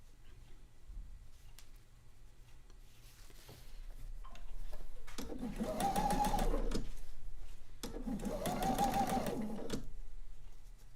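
A sewing machine pieces quilt fabric together in two bursts of rapid, steady stitching of a few seconds each, close and fairly loud, after a quieter stretch with faint handling sounds.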